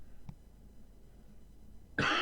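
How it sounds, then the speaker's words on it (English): A man gives a single sharp cough, close and loud, at the very end of an otherwise quiet stretch, preceded by a faint brief throat sound. "Pardon my cough."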